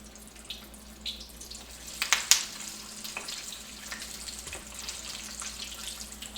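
Flour-coated chicken wings fry in a pan with a soft, continuous crackling sizzle, broken by a few sharper pops and spatters early on, with no talking.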